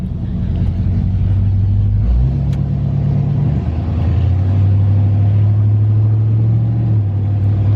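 An old Catalina car driving after brake work, its engine humming steadily with pitch shifts as it moves through gears, loud and close inside the cabin with no talk.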